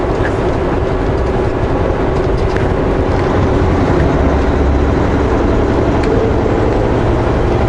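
A train rumbles past with a locomotive placed mid-consist, heard as a steady low rolling roar of wheels and cars that holds evenly throughout, close by and continuous.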